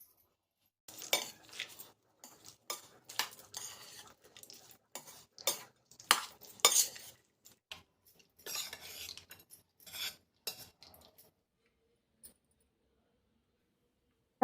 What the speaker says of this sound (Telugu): ఇప్పుడు ఈ తిరగమాతని పులిహోరలోకి వేసుకొని బాగా మిక్స్ చేసుకోవాలి.